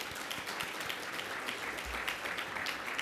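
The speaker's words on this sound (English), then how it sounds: "we just want to give them a round of applause for their nice service" Sustained applause fills a room for hotel staff at a veterans summit gathering, many hands clapping steadily and densely without a break.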